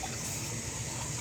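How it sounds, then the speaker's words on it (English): An item is washed under running tap water, a steady faint gush of water pouring without pause. "I'm gonna wash this now"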